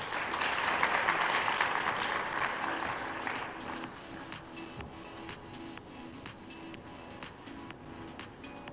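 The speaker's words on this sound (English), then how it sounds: "Let's give a big round of applause as we invite our judge to the stage" Audience applause at a CFA Institute Research Challenge final round in Thailand, a dense burst of clapping that peaks early and then thins into scattered, fading claps, faint and somewhat distant.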